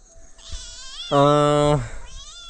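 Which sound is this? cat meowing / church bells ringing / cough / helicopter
cat meowing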